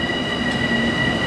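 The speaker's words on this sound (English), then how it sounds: "There's my train back to Atlantic." A Long Island Rail Road M7 train sits loud and close at Jamaica Station in New York City, a steady rumble with a high tonal whine and no talk.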